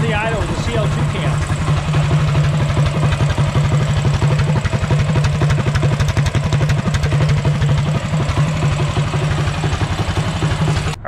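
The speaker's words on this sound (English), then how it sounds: "This is the idle with the CL2 cam." A Predator 212 small engine fitted with a Dyno CL2 cam idles with a loud, rapid, steady chugging clatter that continues without a break for about eleven seconds.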